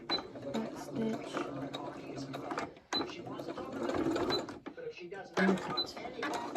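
A sewing machine back stitching a children's hand towel, mechanical whirring bursts broken by short stops, fairly faint and close, with a voice talking over it.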